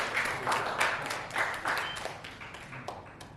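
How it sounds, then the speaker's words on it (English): Scattered applause from a conference audience at a Jakarta breakout session, fairly faint and uneven, with light claps rising and fading across a few seconds. "Can we give a round of applause please"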